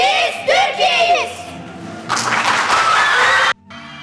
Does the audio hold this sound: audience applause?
yes